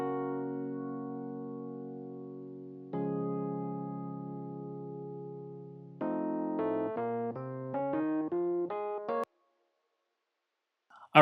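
A heavy-voiced RB piano plugin from Stage 1.4 plays sustained chords that ring out, then a quicker run of stacked chord stabs, before cutting to silence.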